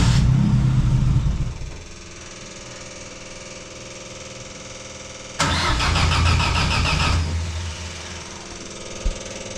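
A car engine with a carburetor needing cleaning cranks and fires, runs briefly, fades to near quiet, then cranks again with a loud revving burst that settles before a final short thump.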